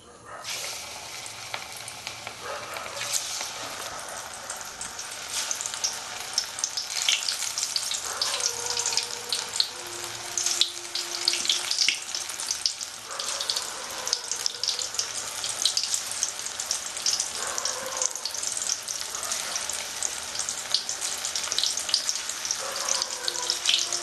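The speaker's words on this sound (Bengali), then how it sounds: "এবার আমি কড়াই তেল দিয়েছি আমি চিকেন পকোড়াগুলো ভাজবো" Chicken pakoras fry in oil in a wok with a steady, dense sizzle and crackle that carries throughout at moderate loudness, with occasional faint scraping and clinks.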